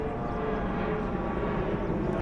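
An airplane passes overhead and recedes, a broad steady engine roar that stays loud and even throughout, heard outdoors at a backyard carport and patio building site.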